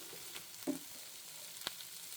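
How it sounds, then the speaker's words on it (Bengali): Diced sweet pumpkin and potato frying in a pan give a faint, steady sizzle with a couple of brief clicks or stirring taps. "ভালো করে ভেজে নিব খুব ভালোভাবে ভাজা ভাজা করতে হবে"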